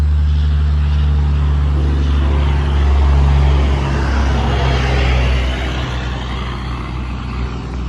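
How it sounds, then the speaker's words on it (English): A very loud truck drives past close by, a heavy low engine roar that swells toward the middle and gradually fades as it moves away. "he's got the world's loudest truck"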